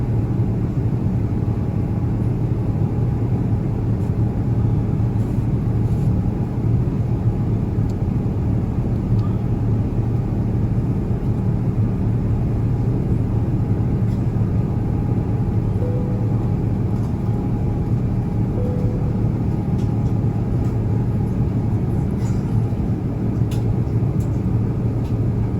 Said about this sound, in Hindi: आहिस्ता आहिस्ता ज़मीन जो है वो नीचे होती जा रही है और जहाज़ ऊपर होता जा रहा है।